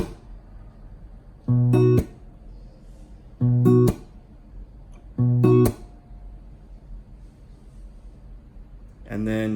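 An acoustic guitar is strummed three times, each short ringing chord cut off by a sharp percussive slap, with quiet pauses between them and a fourth strum beginning at the end.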